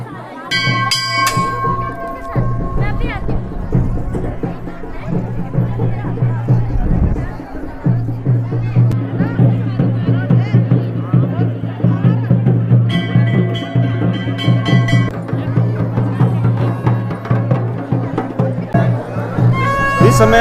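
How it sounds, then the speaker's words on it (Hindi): Dense crowd of devotees at the Nagraja temple fair in Bait village, a steady hubbub of chatter and voices with temple bells ringing repeatedly over a continuous low drone. "तो आप देख सकते हैं आज भगवान के धाम में काफ़ी भीड़ है।"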